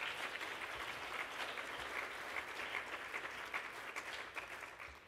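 Audience applause at a literary reading and tribute event, a steady, dense wash of many hands clapping that holds evenly throughout, fairly faint and distant with no voices over it.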